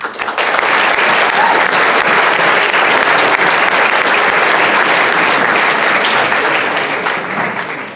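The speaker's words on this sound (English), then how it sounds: "big round of applause please for Professor Luke O'Neill." At a Model United Nations opening ceremony, a large audience claps in a sustained, even round for about seven seconds before tapering off.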